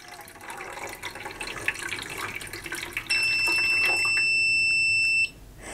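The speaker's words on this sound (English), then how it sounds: "But if you continue pouring water," Water is poured into a self-watering plant pot with a close, soft trickle. Midway, the pot's level indicator gives a long, steady electronic ding that holds for about two seconds and then stops abruptly.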